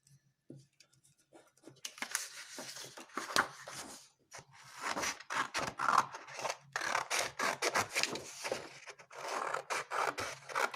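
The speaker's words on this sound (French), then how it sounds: "ce qu'on va faire, c'est qu'on va découper" Scissors cut out a paper storycube, making repeated close snipping and rustling strokes in irregular bursts that grow busier after a quiet start, with no talking.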